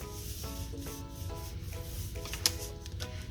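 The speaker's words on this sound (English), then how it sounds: "we're going to go back with our bone folder to really burnish it together" A bone folder rubs steadily over folded paper to burnish a craft pocket calendar flat, a soft continuous scraping close by with a brief tick near the end.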